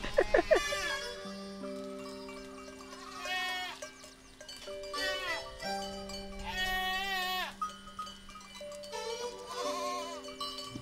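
Goats bleat repeatedly during a goat yoga session at Wobbly Ranch in Snohomish, Washington, with several loud, quavering cries close by over steady background music.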